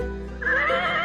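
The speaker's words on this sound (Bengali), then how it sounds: "ঘোড়া অনেক দ্রুত দৌড়ায়।" A horse gives a single whinny that rises and wavers for about a second, close and fairly loud with nothing else around it.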